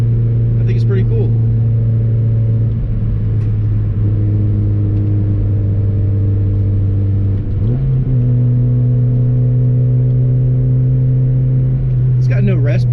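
A 1993 Subaru Vivio with a factory manual gearbox and T-top roof drives along with a steady, loud engine drone that shifts pitch as it changes gear, heard from inside the car with a person talking over it.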